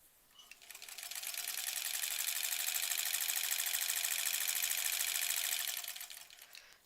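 A sewing machine stitches granny-square quilt pieces in one steady, continuous whirring run of about five seconds. It is close and fairly loud, with no talking.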